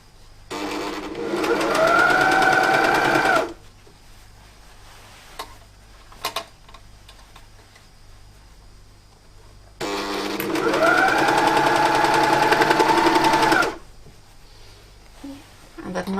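Sewing machine stitching a shirt across a seam: two sustained bursts of fast, whirring motor hum, each lasting about three to four seconds, separated by a quiet pause with faint handling clicks, close and moderately loud.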